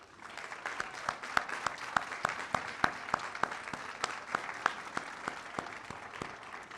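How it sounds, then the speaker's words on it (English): Steady applause from a crowd at a university ribbon-cutting ceremony, many hands clapping with a few sharp louder claps standing out throughout. "please give them a round of applause"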